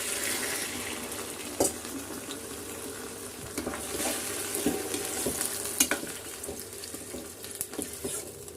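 Prawns sizzle in a hot pan while being stirred, a steady frying hiss punctuated by clinks and scrapes of the spatula, close and moderately loud with no talk.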